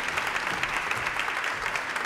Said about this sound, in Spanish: Un gran aplauso para Luis Cubertino.